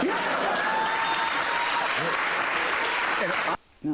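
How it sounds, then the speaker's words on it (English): An audience cheers and applauds during a debate on critical race theory, a loud sustained roar of clapping with voices mixed in that cuts off abruptly near the end. "Do you hear that cheering?"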